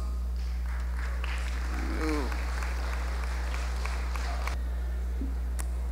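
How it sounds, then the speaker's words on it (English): A school audience at the C R Walker High class of 2023 ceremony gives a steady round of applause for the senior mistress as she comes forward, with mains hum and a voice briefly cutting through the clapping. "Let us give a hearty round of applause as she comes."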